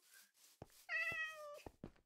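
A cat meows once in the video game Minecraft, a clear, fairly loud mid-pitched meow with a steady tone, set between softer game sounds and rustling.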